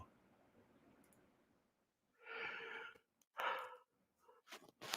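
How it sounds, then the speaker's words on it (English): A person yawns in a long, breathy exhale, followed by a couple of shorter breathy bursts, close and fairly quiet against faint background noise. "Who's yawning?"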